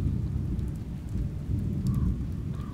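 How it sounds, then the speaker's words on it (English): Rain and thunder in the video game Oxenfree, a dense, steady hiss of rainfall over a deep, continuous low rumble that stays fairly loud the whole time, with no voices. "In the rain that came out of nowhere."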